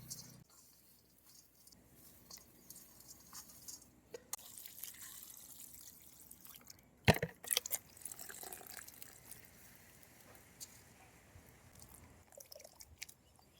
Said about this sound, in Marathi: आपण आता हे फुलं धुवून घेऊ भाजीसाठी